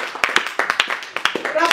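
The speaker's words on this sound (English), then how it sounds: "Clap, clap, clap, clap, clap to Jesus for the truth." Church congregation clapping along in a quick, rhythmic beat during a worship service, loud and close, with a voice speaking over the claps.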